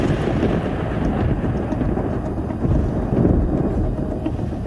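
A dark storm heavy with rain or hail, with loud, continuous low rumbling thunder and a steady wash of rain throughout and no voices.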